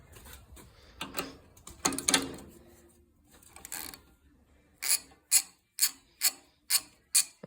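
A ratchet wrench works on an engine while a head gasket is being removed. A few scattered mechanical clicks and clatters come first, then a steady run of about seven evenly spaced, crisp ratcheting strokes, close and clear with no talk.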